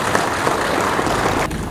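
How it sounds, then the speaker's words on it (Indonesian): A crowd claps loudly at a Gerindra party gathering in Riau Province, a thick, steady wash of applause that fills the moment before tapering slightly at the end. "kita berikan tepuk tangan yang meriah"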